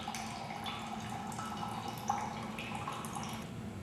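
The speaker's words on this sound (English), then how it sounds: "we then allow the water to run out until the water no longer flows." Water trickles and drips steadily from the spout of a displacement vessel (overflow can) used in a volume-by-displacement measurement, a continuous close running sound with a small splash near the middle and no voices.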